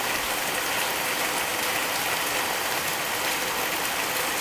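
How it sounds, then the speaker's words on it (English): Rain falls steadily outdoors on a rainy day, a dense, even hiss of drops hitting surfaces that continues without a break, with no talk. "If you can't see it, you can hear it. It is like for real raining right now."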